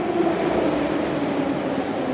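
A St Petersburg Metro train on the Violet Line running underground, a steady, loud, dense rumble and roar of the moving carriages with no pauses and no talking.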